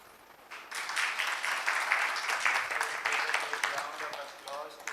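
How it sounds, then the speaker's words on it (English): Applause from a lecture audience thanking Professor Juan Enrique at the close of a long course, a steady dense patter of many hands rising quickly and holding for several seconds before easing slightly. "Round of applause to Professor Juan Enrique for this marathon course."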